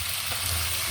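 Chicken feet frying in a pan with oyster sauce and Sprite, giving a steady, broad sizzle with a low bubbling hum throughout, close and even.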